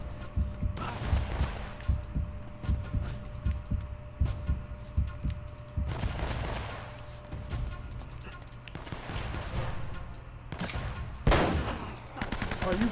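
Rapid bursts of gunfire from the video game Uncharted crackle through a busy in-game firefight, with repeated shots and impacts loud in the foreground alongside heavy rumbling action sounds.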